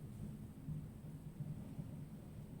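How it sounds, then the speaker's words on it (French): Thunder from a summer heat storm rolls as a faint, low rumble, steady and distant through the brief moment, with no voices over it. "Ah bah, il y a un éclair. Oh, et il y a le bruit."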